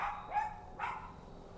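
A pet dog gives two sharp barks a moment apart, close and fairly loud, outdoors by a home garden with no talking.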